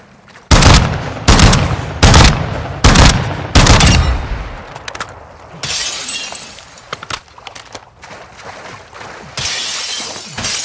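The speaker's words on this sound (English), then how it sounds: "You are taking effective fire." Loud gunfire from Call of Duty DMZ: about five heavy, evenly spaced shots with sharp cracks, followed by a stretch of rougher bursts and crackling impacts, close and dominant throughout.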